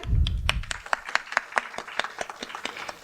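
An audience at a science education awards event claps, a loose scatter of individual hand claps at a moderate distance, following a brief low rumble at the start.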